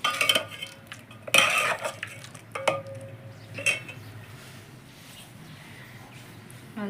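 Green pigeon pea curry stirred in a pot cooked over a chulha, a few sharp metallic clinks and scrapes of a spoon against the pot, close, between quieter pauses.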